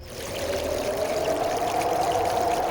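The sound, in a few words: wind and water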